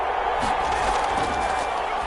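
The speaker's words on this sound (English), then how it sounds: "Crowd getting in it a bit already." Steady crowd roar from a football stadium in the GFL video game, a broad continuous rumble of many voices that holds at an even level throughout, with a commentator's voice faintly under it.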